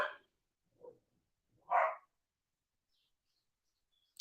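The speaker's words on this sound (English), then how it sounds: "the dogs are out barking" A few short barks from a dog at a distance, separated by pauses, with a faint chirp near the end.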